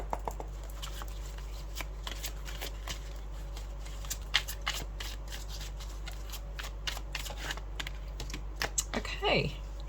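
Tarot cards shuffled by hand before an advice card is drawn, a string of close, crisp riffling flicks and taps over about ten seconds, with a brief voice near the end.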